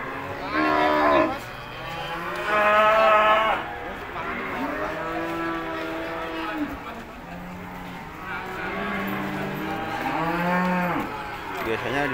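Cattle at the Ambarketawang cattle market in Yogyakarta give several loud, drawn-out moos close by, one after another, with people talking faintly in the background.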